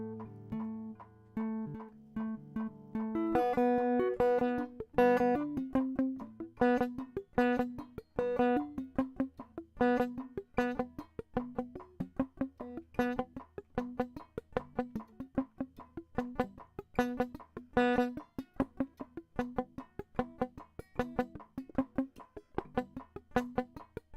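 An electric guitar runs through the Alex Coates practice exercise at 150 bpm, with a quick, even stream of picked single notes. It starts slightly sparse, then settles into a steady, bright run with no talking.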